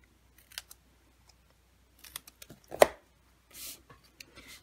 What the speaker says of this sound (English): there's my scissors, and I'm just going to flag the end